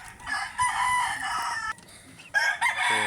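A gray hatch rooster on a small chicken farm crows loudly and close by, with one long drawn-out call followed by a second burst and some clucking near the end.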